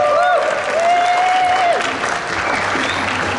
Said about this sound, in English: Give yourself a big round of applause as well.